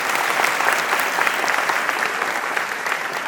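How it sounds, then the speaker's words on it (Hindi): Loud, sustained applause from a seminar audience clapping to honor a student at a science academy event, dense and close with no voices over it. "ऐसी लाडली बेटी के सम्मान में एक बार जोरदार तालियां बजाइए"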